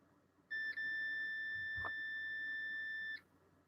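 A device alarm triggered over its threshold sounds one steady electronic tone with a brief dip near the start, lasting about two and a half seconds before cutting off cleanly against quiet background.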